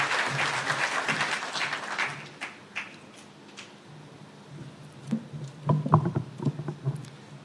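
Applause from a convention audience welcoming the Institution of Engineers of Kenya president in Mombasa, a dense clapping wash that fades after a couple of seconds into quieter scattered claps and room noise.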